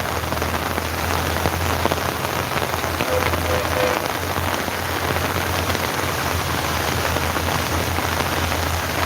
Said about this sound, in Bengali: বৃষ্টিটা বেড়ে গেল, এখন ভারী বৃষ্টি হচ্ছে।